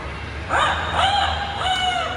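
A rooster in a park crows once, loud and fairly close, a drawn-out wavering call over steady low background noise.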